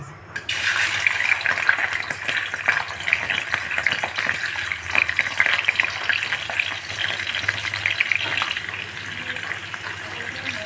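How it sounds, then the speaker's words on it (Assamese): Fish pieces half-fry in hot mustard oil in a heated wok, giving a steady, loud, crackling sizzle with popping spatters that carries on without a break. "মই ইয়াত এতিয়া মাছকেইডোখৰ হাফ ফ্ৰাই কৰি ল'ম।"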